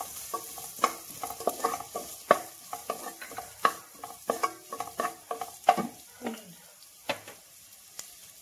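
Chopped onions sautéing in butter in a pan, with a soft steady sizzle under frequent scraping stirs of a spoon, close up with no voice.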